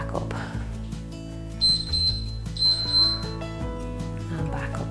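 A workout interval timer sounds two short bursts of high electronic beeping during a strength exercise session, ringing over a steady background of sustained music tones.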